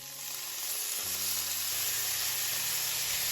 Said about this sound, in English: I'm gonna saute this garlic just for a minute or so until it becomes a little toasty and pretty